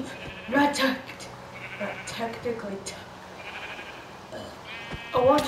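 Sheep bleating in Minecraft on a Skyblock map, a few short bleats near the start and end of the clip over faint game ambience and background music.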